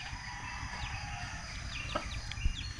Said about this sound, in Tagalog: Yan na lang naiwan sisiw.